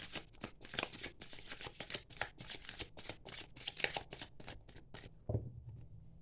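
Tarot cards being shuffled by hand, a rapid run of crisp riffling snaps and flutters up close, ending with a soft knock and quiet.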